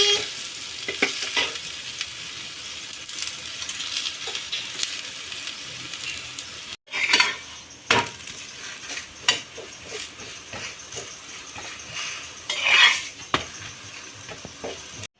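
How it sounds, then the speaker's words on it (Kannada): A multigrain vegetable roti frying in oil on a griddle, with a steady sizzle, occasional scraping and stirring clinks, and a brief break partway through. "ಹಂಚಿನ ಮೇಲೆ ಹಾಕೊಂಡು ಎರಡೂ ಕಡೆ ಎಣ್ಣೆ ಹಾಕಿ ಬೇಯಿಸ್ಕೊಂಡ್ರೆ MV ರೊಟ್ಟಿ ರೆಡಿ"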